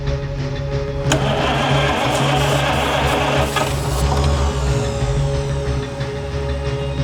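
The engine of a 100-year-old car is cranked and catches, a loud, steady mechanical chugging and whirring with a sharp rise in intensity about a second in, close and sustained with no voices.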